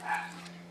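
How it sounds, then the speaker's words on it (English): A single quick, faint dog bark sounds in the distance over a steady low electrical hum. "Excuse my dog."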